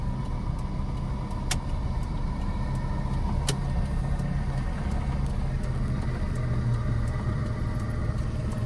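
Car engine rumbling steadily from inside the cabin during a driving lesson as it turns left, a continuous low drone with a couple of faint clicks, no talking.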